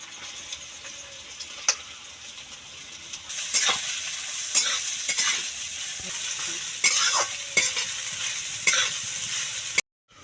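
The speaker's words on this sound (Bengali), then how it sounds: "আমি গাজরগুলো দিয়ে দেবো ভাজার জন্য" Carrots frying in white oil in a hot wok, with a steady broadband sizzle and repeated scraping stirs that grow louder midway, close and without speech, ending in a brief cutoff.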